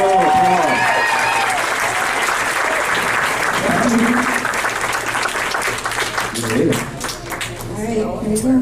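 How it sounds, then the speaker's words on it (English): Steady audience applause and cheering at a comedy graduation show greet Lisa McFadden, loud and sustained throughout, with voices mixed into the crowd noise. "Give Lisa McFadden a big round of applause."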